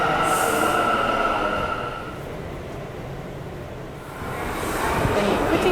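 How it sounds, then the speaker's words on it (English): Subway express train running, a steady loud rumble and rail roar that dips briefly in the middle, then swells again, with a high squeal near the start. "Then you quickly transfer over to the express train because the local train is a lot slower."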